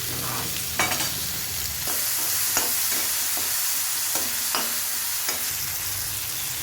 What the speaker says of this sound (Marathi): कांदा व्यवस्थित गोल्डन ब्राउन होईपर्यंत परतून घ्यायचा